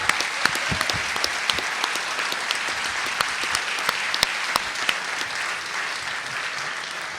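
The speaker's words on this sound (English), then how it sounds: "Let's give a hand to our candidates here for a respectful debate" A crowd applauds the candidates after a respectful gubernatorial debate, a broad, even patter of many hands with a few sharp nearby claps, sustained throughout with no one speaking.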